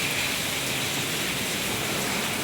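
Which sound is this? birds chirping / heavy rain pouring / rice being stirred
heavy rain pouring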